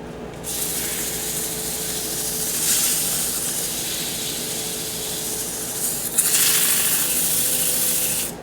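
A wooden box spinning on a lathe faceplate is sanded with 320 grit sandpaper, giving a steady close broadband hiss with a low motor hum beneath and slight swells as pressure changes.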